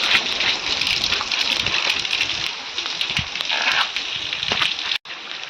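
Steady rain pours down on hillside farmland in the Pahadi hills, a dense even hiss with scattered drops and faint background voices, cutting off briefly near the end.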